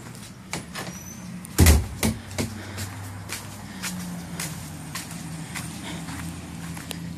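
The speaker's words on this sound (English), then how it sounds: "Going out the front door." A house's front door opens and closes with a loud clunk and rattle early on, followed by a few knocks and footsteps against a low outdoor hum, with no talking.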